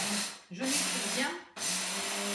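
A coffee grinder whirs as it blends seeds and other ingredients, a loud, steady hissing whine that starts and stops in short bursts of about a second each.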